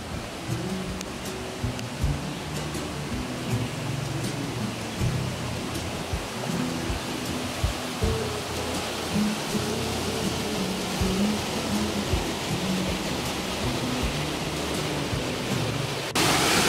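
The waterfall at Pinawa Dam roars as a steady, dense wash of rushing water, loud and unbroken throughout, with no voices over it.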